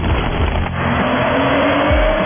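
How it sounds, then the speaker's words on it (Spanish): A 2014 Maserati Ghibli drives on a wet road in the rain, its steady engine hum mixed with a broad hiss of tires on water, loud and continuous throughout. "sigamos aquí en la prueba de manejo con el Maserati Ghibli 2014"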